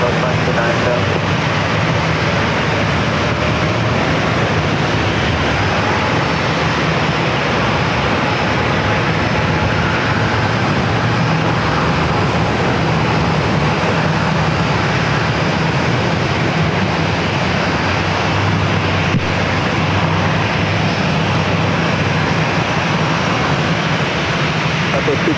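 Airplanes at San Diego airport produce a loud, unbroken engine drone that persists for the whole stretch, with faint voices mixed in beneath the steady roar.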